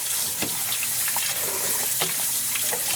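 Tap water runs steadily into a sink as cherry-wine-dyed floss is rinsed, a close continuous gushing splash with small irregular drips and swishes of handling.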